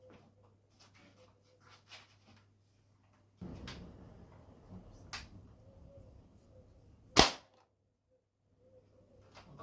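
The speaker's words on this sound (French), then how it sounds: "On se tire une dizaine de billes dans la cible." M61 Double Eagle airsoft sniper rifle firing BBs at a target indoors: a few faint clicks and handling noises, a burst of low rustle, then one sharp loud snap from the shot before quiet returns.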